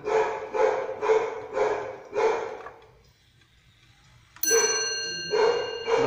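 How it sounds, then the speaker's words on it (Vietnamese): A German wall clock striking the hour, five or six evenly spaced metallic chime strokes, with a pause before another bright strike that rings on. No one speaks. "Giờ chẵn hay điểm nó hồi chuông thôi."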